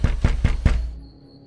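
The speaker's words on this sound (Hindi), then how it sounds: "कोई उनके दरवाजे पर जोर जोर से खटखटाने लगा।" Someone pounds hard on a door: four loud, heavy knocks in quick, even succession, followed by a quiet fading ring.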